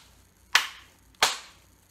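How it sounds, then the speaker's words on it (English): Two sharp hand claps, evenly spaced about two-thirds of a second apart, close and crisp against a quiet background with no talking. "Clap your hands to get yourself back in the frame of mind."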